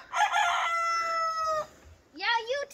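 A rooster perched up on a homestead roof crows one loud, close, drawn-out cock-a-doodle-doo, followed after a short pause by a briefer second call.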